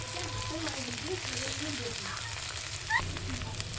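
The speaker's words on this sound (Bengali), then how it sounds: "এবার দেখুন এটাকে একটু নাড়িয়ে চাড়িয়ে দিচ্ছি আমি" Egg and spring onion stalks sizzle steadily in a frying pan while being stirred, a continuous close crackle with soft scraping movements throughout.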